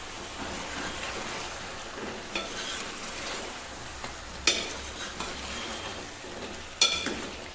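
Mushrooms cook in a pan in their own released water for a mushroom and egg curry, giving a steady close sizzle with scraping stirs and a few sharp utensil knocks.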